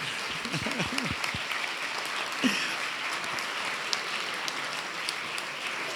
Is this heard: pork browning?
no